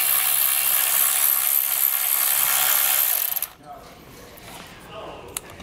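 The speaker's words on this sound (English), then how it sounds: "So we'll just get that nut off, put our ground wire in place." A 10 millimeter nut is spun off a trailer hitch stud with a ratchet wrench during a Curt T-connector wiring harness install on a 2022 Chrysler, a loud steady ratcheting that runs for about three seconds and then stops, leaving quiet shop ambience.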